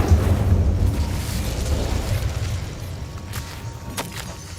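Fire spell cast in the Hogwarts Legacy video game: a loud, dense burst with heavy low rumble that slowly tapers into a crackling roar, with a couple of faint sharp clicks near the end.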